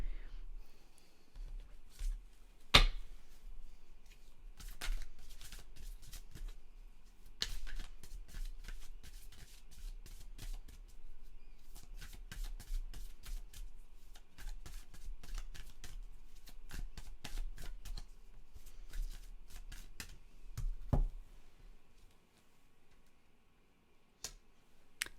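Tarot guidance cards being shuffled by hand, giving quiet, repeated riffling and flicking bursts that run intermittently with short pauses, soft and close, and a few sharper taps along the way.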